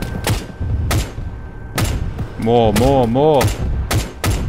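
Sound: gunfire at an enemy vehicle in Arma 3 video game

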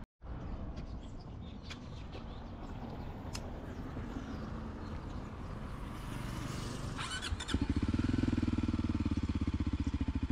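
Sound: motorcycle engine running

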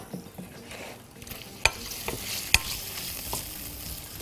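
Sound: duck gizzards being stirred and sautéed in a pan

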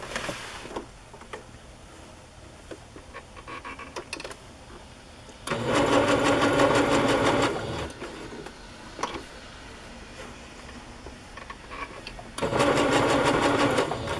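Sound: sewing machine sewing stamped muslin onto fabric

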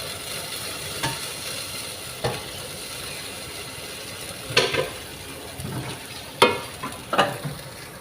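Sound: appam batter poured into hot pressure cooker, sizzling

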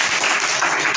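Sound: classroom clapping

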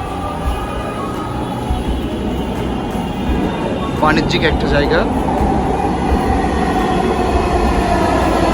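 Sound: Dhaka metro rail train arriving

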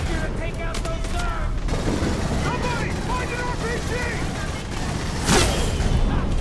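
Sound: gunfire in the video game Aliens: Colonial Marines

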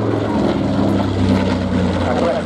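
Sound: heavy bomber aircraft with 14-cylinder air-cooled radial engines

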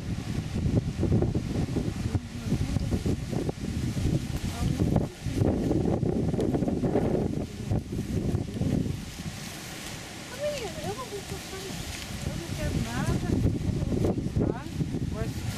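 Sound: wind blowing by a river bend

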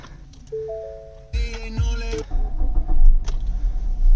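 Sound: 2014 Ford Fusion SE engine starting

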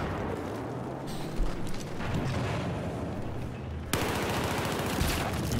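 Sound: gunfire in a team shooter video game match

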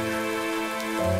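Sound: rain falling in modded Minecraft video game

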